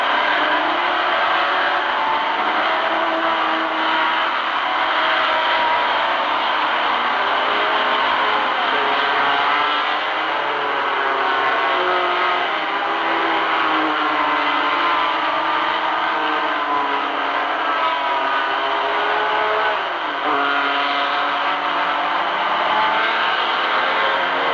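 Race cars start the 1966 24 Hours of Le Mans, a steady roaring mass of engines heard from a distance, droning continuously with rising and falling revs, no voices over it.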